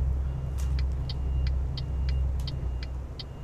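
Truck exhaust brake in Euro Truck Simulator 2, a low steady engine rumble droning throughout beneath a series of short, regular electronic ticks.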